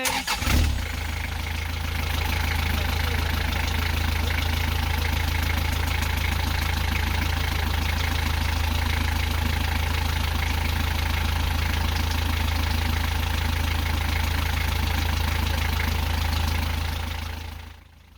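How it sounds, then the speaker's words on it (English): An engine with suspected trouble runs steadily at idle after an oil change, a continuous low hum and rumble that starts abruptly and holds evenly for about seventeen seconds before cutting off. "Ran the engine for 30 minutes and did the third oil change."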